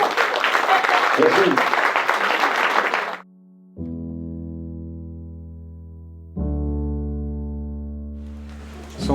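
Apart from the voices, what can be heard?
audience applauding the children sailors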